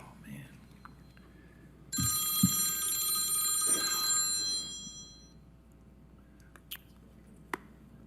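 A telephone bell rings continuously for about three seconds in a quiet meeting room, with soft background murmur and a few small clicks before and after.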